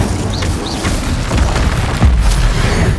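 A fire spell is cast during combat in Hogwarts Legacy: deep booming blasts roll out under a crackling rush, with a couple of brief whooshing swoops early on.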